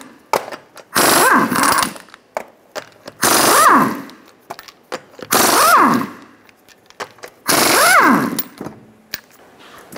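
Four loud, close bursts of a pneumatic impact wrench spinning off the 21mm lug nuts from a 2007-2012 Nissan Altima wheel, each rattling burst lasting about a second with short quiet gaps between.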